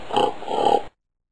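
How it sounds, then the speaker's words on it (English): A pig oinks twice in quick succession, close and clear, then the sound cuts off abruptly into silence. "Pigs, oink."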